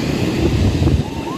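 Sea waves wash onto the beach at Playa San José, giving a steady broad rush of surf mixed with wind buffeting the microphone.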